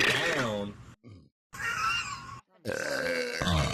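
Loud, drawn-out burps from a group of young men, several long guttural belches separated by brief silences, close to the microphone.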